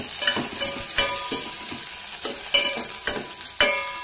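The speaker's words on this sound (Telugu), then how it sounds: "ఆయిల్ హీట్ అయ్యాక ఆనియన్స్ వేసేసుకొని ఈవెన్గా ఫ్రై అయ్యేటట్టు చూసుకోవాలి" Onions and green chillies frying in hot oil for rasam, a close steady sizzle broken by several sharp stirring scrapes and clinks at irregular intervals, with no talking.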